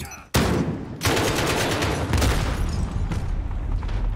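An AK rifle fires in Call of Duty: Modern Warfare, loud close bursts of automatic gunfire that start abruptly and keep rattling with short gaps throughout.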